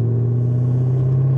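A Camaro ZL1 1LE accelerates hard to pass other cars, its engine heard from inside as a loud, steady low drone and rumble that holds throughout with no voices.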